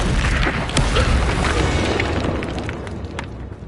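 A Bombarda spell blast in the Hogwarts Legacy video game, a loud close boom with crashing debris that rumbles and slowly fades, no voices over it.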